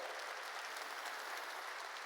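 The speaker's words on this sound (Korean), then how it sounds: "깨달은 사람만 박수 쳐요" Steady, even applause from a church congregation during a Korean New Year's Eve sermon, a continuous wash of many hands clapping at moderate distance with no speech over it.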